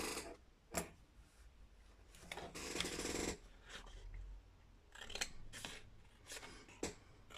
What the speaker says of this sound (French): Et on découpe les petits carrés.